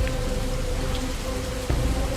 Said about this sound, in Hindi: और बारिश ने अपना विकराल रूप दिखाना शुरू कर दिया।